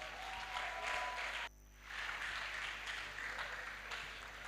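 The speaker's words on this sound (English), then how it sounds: "So a round of applause." Audience applause during a live-streamed counseling session, a moderate wash of many hands clapping, briefly dropping out for a moment before resuming and continuing steadily to the end.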